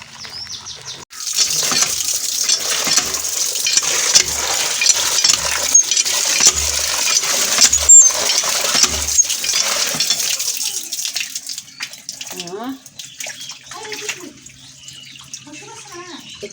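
Freshly caught crabs are rinsed of mud in water, with steady splashing and sloshing close by that fades toward the end, while voices and faint bird chirps come through.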